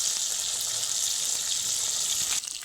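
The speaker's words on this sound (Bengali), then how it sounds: "মাছগুলোকে বেশ উল্টে পাল্টে ভেজে নিয়েছি" Hot oil sizzles loudly and evenly as fish fry, a bright continuous crackle that dips briefly near the end.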